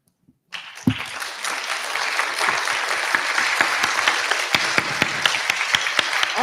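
An audience bursts into loud, sustained applause for three panelists at an African Liberation Day gathering, and the clapping starts abruptly after a brief silence and stays dense and steady throughout.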